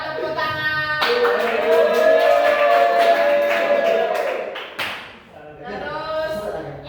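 Students in a classroom clap together in a sustained burst of hand clapping from about one second in, fading out near five seconds, with a teacher's voice before and after.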